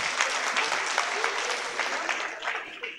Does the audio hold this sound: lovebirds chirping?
no